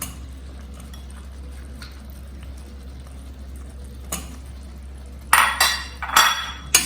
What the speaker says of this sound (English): Stir a little bit, not much. Just mix it with all the masalas.